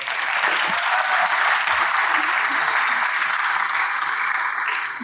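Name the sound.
applause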